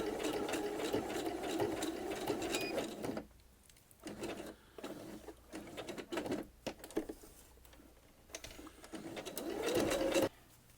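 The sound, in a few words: sewing machine sewing over cord for bobbin work appliqué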